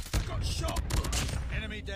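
Dense close gunfire in Call of Duty Mobile, rapid cracking shots over a steady layer of game noise, with a louder report near the start.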